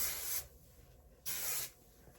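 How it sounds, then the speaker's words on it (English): Dry Bar Kicker hair product is misted on lightly in two short, soft hissing spray bursts separated by a brief pause, close and quiet with no talking. "Very light spray."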